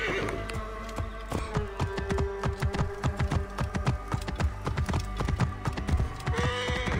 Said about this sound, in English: We'll need our horse.